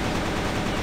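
Dense, continuous gunfire in the shooter game CrossFire, a brief burst filling the short moment with no voices.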